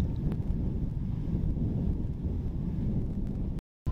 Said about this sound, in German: Der Wind ist ein bisschen aufgefrischt und die macht echt ziemlich Umdrehungen hier.